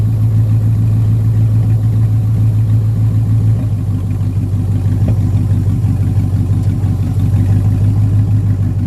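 A car engine idles just under 1,000 rpm, giving a loud, steady, close rumble with an even pulsing beat and no talk over it.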